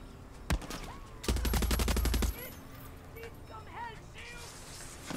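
Gunfire in Far Cry 6: a single sharp shot, then a rapid automatic burst lasting about a second, close and loud, followed by quieter game ambience with a voice speaking.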